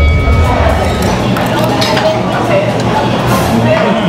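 Glasses clink in a toast over a meal of spicy crispy pork sisig at a Philippine eatery, a brief clink amid steady restaurant chatter and background noise.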